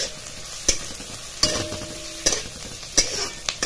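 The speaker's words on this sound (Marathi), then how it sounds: "कांदा चांगला लाल होईस्तोवर परतायचा आहे" Onion sautéing in a pan for an amti curry, a soft steady sizzle broken by four or five sharp spatula scrapes and knocks at regular intervals.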